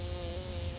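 A cartoon bee buzzes in a steady, continuous drone, close and fairly loud, with no talking over it.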